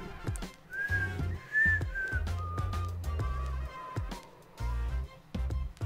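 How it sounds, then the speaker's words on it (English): Whistling in the video game Heartbound, a wavering tune of several sustained and sliding notes over a rhythmic low game music backdrop with percussive clicks. "To be honest, I'm not very good at whistling either."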